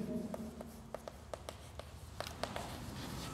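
A pen or chalk scratching out a refractive index formula by hand during a physics lesson, a run of quick taps and short strokes close by over a steady background hiss.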